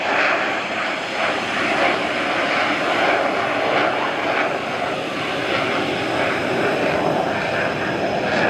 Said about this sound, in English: This Joss Gripen jet was flying really slow when another jet almost hit it.